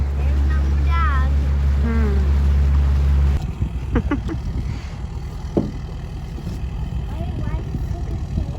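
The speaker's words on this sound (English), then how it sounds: "My cool little boat." A small motorboat engine drones steadily with a low hum, then cuts out, leaving wind, water and faint voices.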